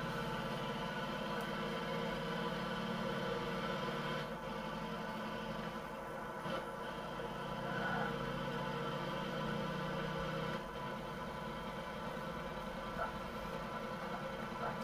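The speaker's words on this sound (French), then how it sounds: "Il tourne comme un moteur diesel, mais il tourne à essence et il fait le bruit d'essence." A Volkswagen Beetle petrol engine idles steadily, a continuous low rumbling drone with slight variations, recorded fairly faint and without talk.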